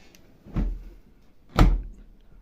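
A Bosch dishwasher door being shut: two dull thuds about a second apart, close by, the second one louder and sharper, with near silence around them.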